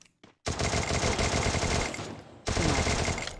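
Rapid automatic gunfire in a mobile shooter game, with two sustained dense bursts separated by a brief pause, loud and close with no talk.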